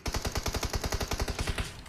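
Rapid automatic gunfire from PUBG Mobile rattles out as one long, evenly spaced burst of roughly eighteen sharp shots, loud and close, then stops.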